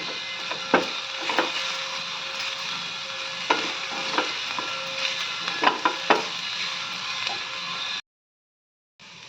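Food frying in a pan with salted egg being cooked, a steady hiss broken by repeated sharp crackles and spatters and a faint tonal hum, continuing for about eight seconds before cutting to silence.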